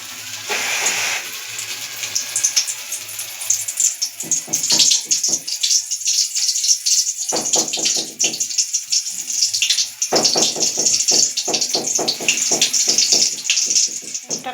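Running tap water splashes over hands being rinsed in a home kitchen before shaping cauliflower chop, a steady broadband hiss with irregular splashing pulses throughout, fairly close and loud.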